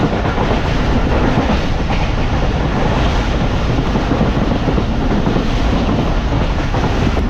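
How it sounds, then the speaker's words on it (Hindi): Karachi Express train racing at high speed on rails in heavy rain, a steady dense roar of wheels and rushing air with faint clickety-clack, loud and continuous throughout, no talk. "तो दोस्तों झंपीर से निकलने के बाद ट्रेन की स्पीड कुछ इस तरह की है"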